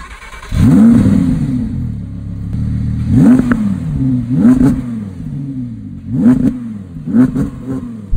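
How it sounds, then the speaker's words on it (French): A powerful naturally aspirated 620 hp V10 engine in a 2020 Audi R8 revs hard several times, each blip rising and falling with a loud, crackling exhaust, close by. "de nouveaux pots d'échappement qui frappent très fort"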